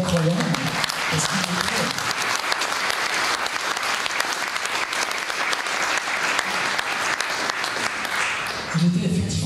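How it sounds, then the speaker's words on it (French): Audience applause fills an evening tribute event at the Majestic hall honouring Pierre Mazeaud, steady dense clapping from a large crowd for about nine seconds, with brief voices at the start and end. "On peut l'applaudir"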